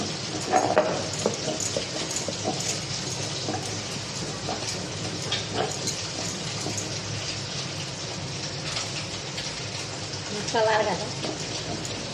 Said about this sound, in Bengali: ততক্ষণ মাছটা ভাজা হয়ে যাক